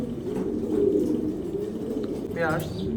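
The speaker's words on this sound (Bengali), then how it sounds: "এখানে দেখতে পাচ্ছেন খুবই একটা সুন্দর একটা কবুতর" Racing pigeons coo in low, throaty murmurs, a near and continuous rolling coo with a brief brighter call toward the end.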